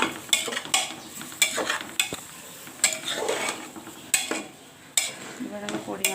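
Masoor dal with mixed vegetables and spinach, seasoned with salt, turmeric and a little sugar, being stirred in a pot: a series of sharp spoon scrapes and clinks against the metal, recurring every second or so, close and clear with no talking.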